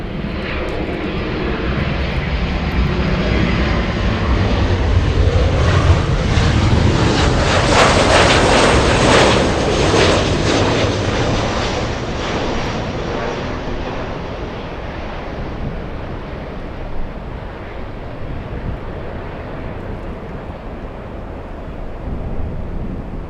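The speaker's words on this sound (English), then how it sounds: "We have United 199 flying in from Shanghai. That's a 787 Dreamliner." A United Boeing 787 Dreamliner arriving from Shanghai on final approach at LAX, its jet engines swelling to a loud, broad roar as it passes overhead, then fading into a long rumble with wind buffeting the microphone.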